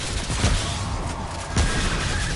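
Gunfire in the video game Remnant, two heavy blasts about a second apart over a dense, noisy game background.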